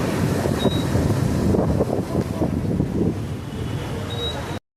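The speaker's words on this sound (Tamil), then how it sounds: "காற்று பயங்கரமாக அடிக்குது." Strong storm wind in Chennai roaring and buffeting the microphone in a continuous heavy rush, easing slightly toward the end before cutting off.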